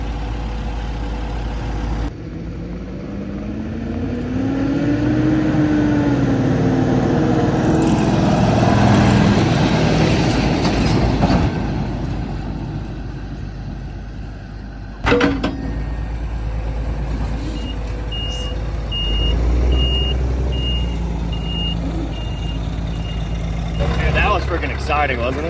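A 22,000-pound Scania semi truck hauls a sled in a pulling event, its heavy diesel roaring loud and close and rising in pitch as it strains, with people talking over the engine.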